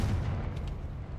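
A Confringo blasting spell going off in the Hogwarts Legacy video game, one low booming burst that rumbles and fades within about a second, heard alone.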